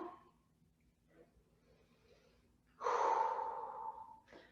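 A long, forceful exhaled breath during a yoga pyramid pose, close and clear after quiet moments, ending with a short sniff.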